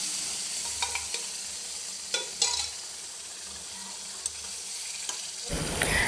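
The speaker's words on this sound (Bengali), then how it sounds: "টমেটোটা এখন মশলার সাথে ভালো করে মিক্স করে নেব, ভাজা করে নেব।" Tomato being stir-fried with masala in a pan gives a steady close sizzle broken by scraping stirs, then a louder, harsher burst of frying near the end.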